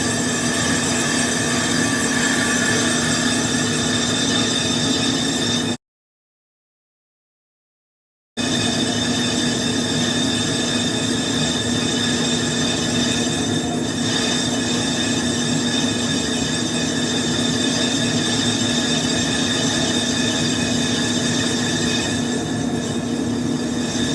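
A turbine part for a 2003 Ford 6.0 Powerstroke is cut on a machine turning at low RPM, around 280, producing a steady, loud grinding hum with sustained squealing tones; it briefly cuts to silence for a couple of seconds, then resumes.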